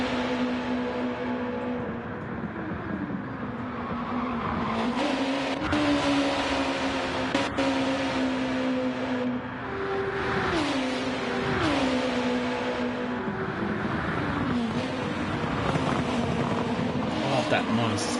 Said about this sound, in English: Listen to the noise of that exhaust.